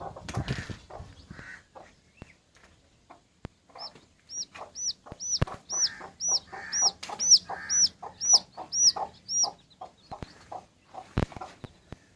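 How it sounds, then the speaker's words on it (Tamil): Several chicks and hens cluck and peep in repeated short calls at a home in Tirunelveli, where a three-legged chick is kept, with a steady rhythmic run of chirps building in the middle, fairly close and alone without speech. "இந்த ஒரு மூணு கால் இருக்க கோழி குஞ்சை பார்க்கறதுக்காக வந்திருக்கோம்"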